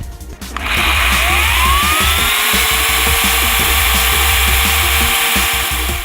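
A Daewoo DACS 2700E electric chainsaw motor spins up smoothly with its soft start and then runs at a steady, high, close whine without pause. No one speaks.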